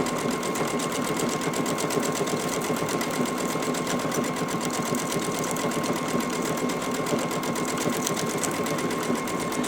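A Babylock or Brother sewing machine sews decorative stitches, giving a steady, fast mechanical chatter with a constant whirring hum. It runs close and unbroken throughout with no talking.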